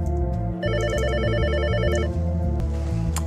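A telephone rings with a warbling electronic trill, repeating in quick pulses over a low droning background, loud and close.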